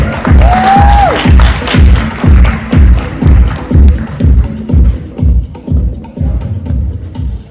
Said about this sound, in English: Why don't we give him a huge round of applause.